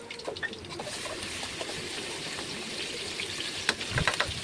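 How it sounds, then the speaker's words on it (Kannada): Onions and coriander leaves fry in hot oil in a pan with a steady soft sizzle, broken by a few louder crackles and pops near the end. "ಒಂದು ಬಾಣಲಿಗೆ ಎಣ್ಣೆ ಕಾದ್ಮೇಲೆ ಈರುಳ್ಳಿ ನೆಕ್ಸ್ಟು ಕೊತ್ತಂಬರಿ ಸೊಪ್ಪು ಹಾಕಿ"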